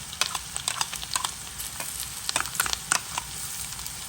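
Rougail graton sizzles and fries in a pot while a utensil stirs and scrapes through it, giving steady crackling hiss punctuated by irregular clinks and scrapes, close and moderately loud with no voices.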